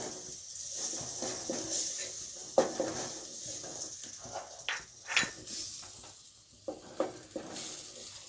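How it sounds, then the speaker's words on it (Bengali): Chopped onions frying in half a cup of oil, a dense continuous sizzle with bursts of louder crackling and occasional spoon-against-pan stirring taps, close and clear. "আমরা এখন আধা কাপ তেলের ভিতরে কুচি করা পেঁয়াজগুলো ছেড়ে দিচ্ছি"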